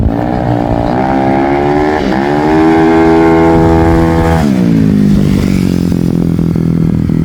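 A Yamaha Mio MX scooter engine with a JVT 4-valve setup revs loud and close on a test run, its pitch climbing steadily, holding, then dropping back to a rough, steady drone.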